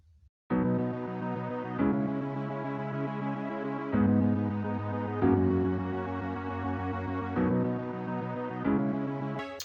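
A simple FL Studio 20 beat slowed down with the Halftime VST plays alone, with sustained, heavy chords changing every couple of seconds over a deep low end after a brief quiet start.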